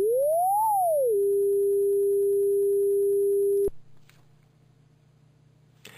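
A synthesized sine tone built in MaxMSP glides smoothly upward over about a second, eases back down to a lower steady pitch, holds there for a few seconds, then cuts off abruptly, leaving faint low hum.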